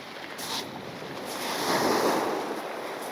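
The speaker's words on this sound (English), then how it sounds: "Feel like I'm shouting over the noise of the sea" Sea waves break on the stony shore at Bonchurch on the back of the Isle of Wight, a loud, steady wash of surf mixed with wind buffeting, swelling slightly midway.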